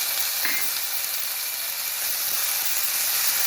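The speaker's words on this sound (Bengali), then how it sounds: "কাঁচা লঙ্কাটা আদাটা একটু ভালো করে ভেজে নিচ্ছি" Green chili and ginger paste fry in a pan, giving a dense, steady close-up sizzle with a constant hiss and no pauses.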